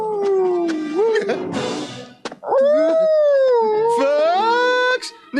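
A dog howls in long, wavering tones, sliding up and down in pitch, broken by a brief noisy burst and short pauses, close and loud with no other sound around it.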